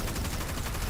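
Shotgun fire in Destiny 2, a video game: a dense, loud volley of rapid, closely spaced blasts that runs through the brief moment with no pause and no voices.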